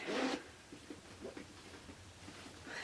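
A quick pull on a zipper pocket of a Rebecca Minkoff leather mini handbag opens with a bright rasp, followed by soft rubbing and rustling nearby.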